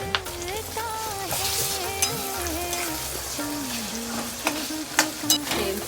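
Misal masala fries and is stirred in hot oil in a home kitchen pan. A continuous sizzle runs under repeated scraping stirs, with a steady tonal hum in the background and no talking.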